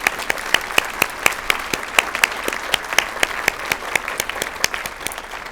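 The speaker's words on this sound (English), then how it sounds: "I think that deserves a round of applause." Scattered hands clap at a university chancellor's inauguration ceremony, honoring the faculty marshal. Distinct individual claps ring out in an uneven rhythm, moderately quiet, with no talk over them.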